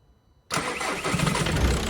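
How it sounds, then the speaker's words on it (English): A 1.9 TDI diesel car engine cranks and catches suddenly, settling into a loud, steady rumbling idle. "let's give this car a start."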